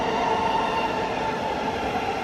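A Thameslink train sits at London St Pancras station, giving a loud, steady rumble and hum with faint high whine, continuous throughout and without talking.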